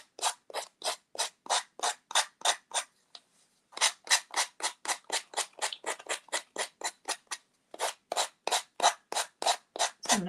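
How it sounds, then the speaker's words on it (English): Hand sanding of an MDF star ornament, a steady run of rhythmic back-and-forth rasping strokes, close and fairly loud, with a brief pause partway through before the strokes resume. "Light sanding, because this is MDF."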